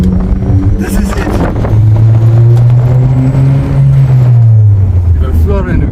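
Boosted Honda Civic FD making 188 kW, accelerating on a highway, heard from inside as a steady engine drone that rises in pitch, with wind noise and someone talking over it.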